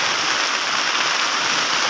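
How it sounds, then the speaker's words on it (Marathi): Heavy rain pouring steadily over a village, a loud dense wash of noise that stays even throughout, with no distinct thunder crack heard. "लय आवाज चालू आहे गडगडाट चालू आहे पावसाचा"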